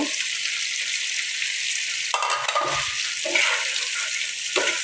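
Eggplant going into a pan of chicken braised in oil with no water left, giving a continuous hiss of frying with a few spoon scrapes and bursts of spattering.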